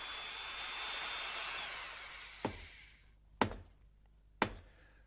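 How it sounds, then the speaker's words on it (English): Crocodile's pneumatic drill in a children's story, a loud sustained hiss that fades out and is followed by three sharp separate impacts spaced about a second apart, with no voices. "In desperation, Crocodile started using his pneumatic drill."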